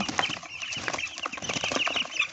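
Chickens in a coop cluck and murmur close by in a continuous, busy patter of short calls, with no talk over them.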